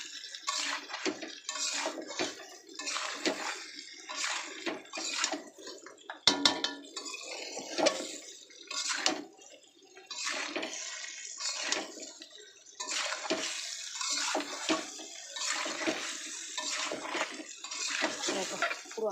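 Mango pieces being mixed by hand with spices for a sweet-sour pickle: continuous wet squelching, clattering and scraping, close and fairly loud, with no talk.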